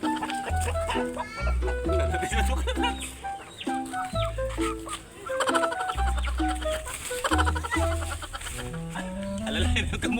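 Chickens cluck and call repeatedly over a steady stretch, fairly close and loud, with people talking and shouting over much of it.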